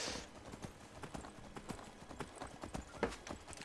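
Horse hooves clip-clop at a steady walking rhythm across the whole stretch, fairly close and moderately loud, while riding through the Skyblivion game world.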